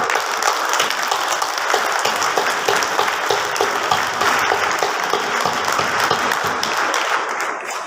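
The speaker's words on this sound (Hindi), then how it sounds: "सभी खड़े होकर और तालियों से विद्यालय की जो 50 साल है उसके लिए स्वागत करें" An audience at a school's 50th anniversary alumni gathering stands and applauds, producing dense, sustained clapping that stays loud and even for about eight seconds before easing slightly at the close.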